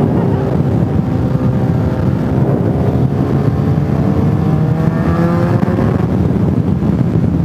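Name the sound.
BMW motorcycle exhaust while riding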